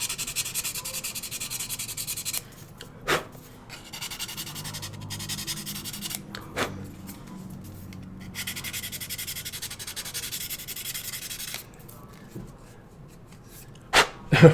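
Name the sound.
scraping and sanding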